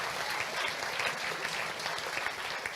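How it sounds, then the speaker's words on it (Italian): A crowd at a live event claps in steady, even applause, a dense wash of hands held at a moderate distance with no voices on top. "un bel applauso"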